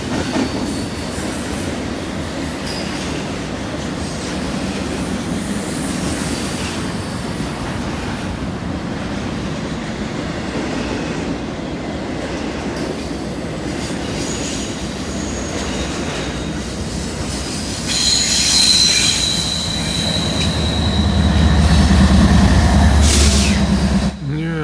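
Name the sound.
freight train passing with squealing wheels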